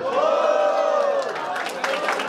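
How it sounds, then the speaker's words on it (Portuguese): A crowd at a Brazilian rap battle (Batalha do Galo in Londrina) roars and shouts loudly to vote, a sustained mass of yelling voices that gives way to scattered whoops and claps near the end. "Quem acha que o Portuga foi mais criativo no terceiro round e faz barulho?"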